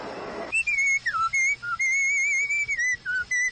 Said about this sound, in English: No wonder he's whistling.